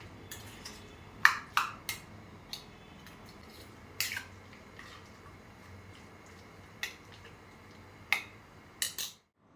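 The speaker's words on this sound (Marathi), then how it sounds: "थोडंसं चवीपुरतं मीठ ॲड करूया आणि हे मिक्स करून घेऊया छानपैकी" An avocado toast mixture is stirred in a bowl, giving sparse, sharp clinks and taps of a utensil against the bowl and soft wet squelches over quiet room tone, with no talking.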